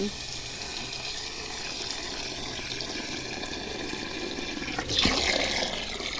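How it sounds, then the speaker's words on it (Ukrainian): Water runs steadily from a tap into a bucket outdoors, a constant splashing rush that swells louder near the end. "Зараз трохи відро налю."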